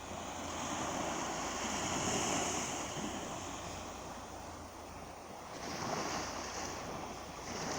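Waves of the Sea of Azov wash onto the shore on a foggy overcast evening near Mariupol, a steady rushing surf with wind noise, gently rising and falling.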